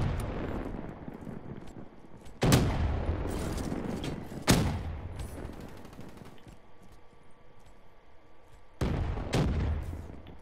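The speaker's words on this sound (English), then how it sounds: "Let's go. Let's get the grenade launcher." A China Lake grenade launcher fires in the video game Black Ops 3: three loud, close booms spaced seconds apart, each trailing into a rumbling explosion over a steady background of game noise.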